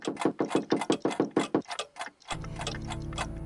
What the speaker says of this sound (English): the cuckoo clock makes a door knocking sound when Gabriel looks at it